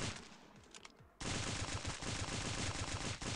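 Rapid continuous bursts of M18 Commando submachine gun fire in the shooter game Stick Warfare Blood Strike, loud and sustained after a quieter opening with a few scattered shots.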